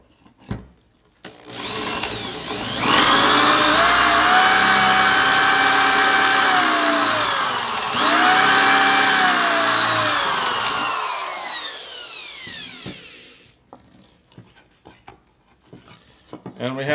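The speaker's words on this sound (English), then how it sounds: "Drill again." A power drill whirs loudly and steadily while boring holes in wood with a dowel jig, its pitch dipping as the bit bites, pausing briefly, then winding down before faint clicks and handling noises.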